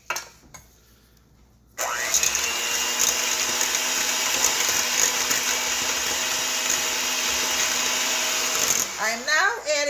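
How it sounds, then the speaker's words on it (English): An electric mixer whirs into chocolate cupcake batter, starting abruptly and holding a steady loud motor drone for about seven seconds before cutting off, with brief talk before and after. "We're going to mix this together."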